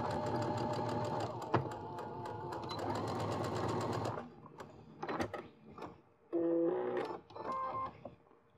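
Sewing machine stitching a zipper onto fabric: a fast rattling mechanical run of about four seconds, then a pause and a few short bursts of stitching with clicks and handling noises in between.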